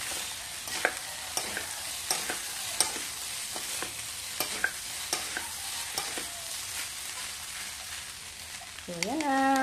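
Fried rice being stir-fried in a pan gives a steady close sizzle, broken by regular scraping and clanking strokes of the utensil. A brief tonal sound rises at the very end.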